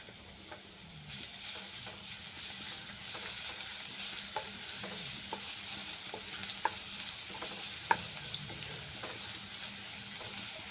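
Garlic paste fries in a couple of spoonfuls of oil for a rui fish malaikari, giving a steady close sizzle broken by scattered scraping clicks as it is stirred, with no talk.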